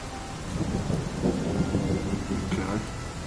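Rainfall in the PS4 online role-playing game Skyforge, a dense, steady hiss of falling rain with a low rumbling undertone, continuous and even for the whole stretch.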